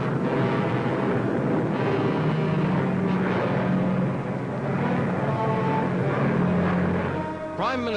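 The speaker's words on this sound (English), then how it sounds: "Fleets of huge C-47s, loaded with veteran American shock troops ready for the supreme test." Fleets of C-47 transport aircraft carrying paratroopers drone in a dense, rumbling roar of propeller engines, heard in old newsreel sound and continuing steadily throughout.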